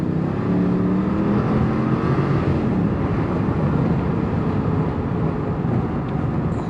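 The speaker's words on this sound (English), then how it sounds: "if we do a quick acceleration uphill" A 2023 Ram 1500 Warlock pickup accelerates uphill, its engine a steady loud drone heard from inside the cab over continuous road rumble.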